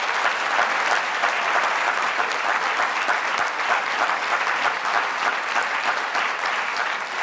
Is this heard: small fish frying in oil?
no